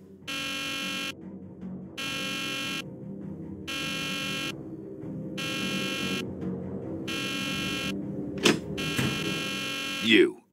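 A loud electronic alarm buzzes in repeated on-off bursts, about five long pulses, in a Nancy Drew video game, with a couple of sharp thumps and a brief voice near the end.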